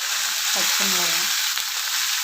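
Mustard seeds and urad dal crackle and sizzle in hot oil, a bright steady frying hiss with a faint murmur underneath.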